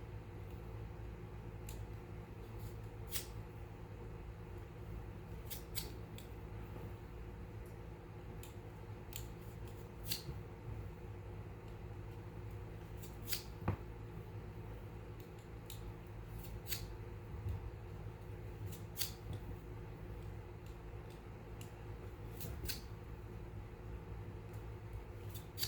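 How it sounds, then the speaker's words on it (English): A taper knife slices tapers for a hand splice of XTC spearmint rope, giving repeated short, crisp cutting strokes over a steady background hum. "Next, I'm going to cut my tapers out. And I'm going to use this taper knife."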